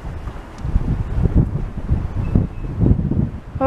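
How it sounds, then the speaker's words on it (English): Gusting wind buffets the microphone on an evening walk near Stanley Park, a low rumbling roar that rises and falls in close, uneven surges. "Oh, this wind."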